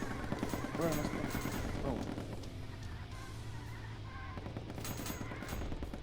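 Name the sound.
gunfire in a video game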